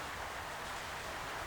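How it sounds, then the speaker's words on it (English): Light rain patters steadily in the background of a workshop, a soft continuous hiss that stays even throughout and carries no talk. "if you can hear a little bit of pitter patter in the background, it's raining"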